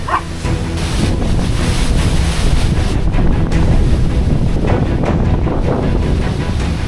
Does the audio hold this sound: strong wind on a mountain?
yes